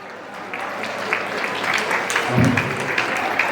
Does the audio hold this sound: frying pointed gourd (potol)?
no